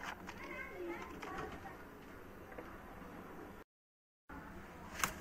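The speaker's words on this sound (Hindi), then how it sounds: "ये देखिए जी दोस्तों बटेरा कबूतर है जी दोस्तों" Batera breed pigeon cooing in a loft setting, soft low coos over a busy background murmur of other birds and ticking noises, with a brief dropout partway and a sharp chirp near the end.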